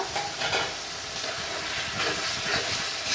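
Chopped half-ripe tomato lands in hot oil and frying spices for a fish curry. It sets off a steady, hissing sizzle at moderate volume, with faint stirring and no voices.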